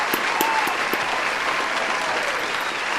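An applause sound effect, a dense, steady wash of crowd clapping that holds evenly throughout, with a few sharp individual claps standing out.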